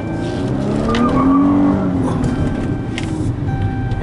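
Chrysler 300C John Varvatos edition with a 3.6L AWD 24V V6 engine producing 292 hp, loud close engine noise with a rising and falling rev sweep that sounds almost like a tire squeal.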